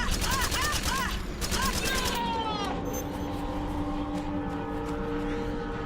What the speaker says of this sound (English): I like how their first instinct upon seeing me is to throw a couple grenades.